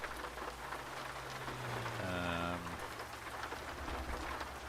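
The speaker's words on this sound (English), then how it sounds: "Love the rain there, eh?" Steady rain patter in the Euro Truck Simulator 2 driving game, a constant wash heard from inside the truck cab, with a low engine hum and a brief spoken word over it.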